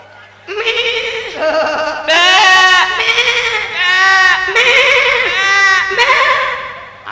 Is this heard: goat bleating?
yes